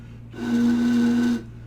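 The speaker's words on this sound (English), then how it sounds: "You can blow air across the opening of a water bottle." A breathy, hollow hoot from air blown across a water bottle's opening, holding one low pitch for about a second, fading in and cutting off cleanly.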